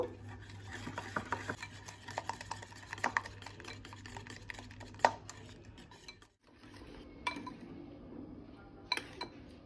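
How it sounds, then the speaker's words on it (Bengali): Eggs are beaten with powdered sugar in a bowl for semolina biscuits, with a whisk or spoon clinking and scraping against the bowl in quick irregular strokes, fairly faint and close, with a short pause partway through. "ডিম চিনি গুঁড়ো ভালোভাবে বিট করে নেব"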